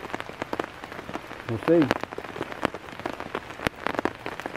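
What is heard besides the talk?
rain falling on a camp tarp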